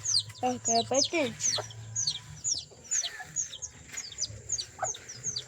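Pigeons in a breeding pair, a blue bar and a white, call from nearby in a series of short, bright chirping notes, with a person talking over the first part.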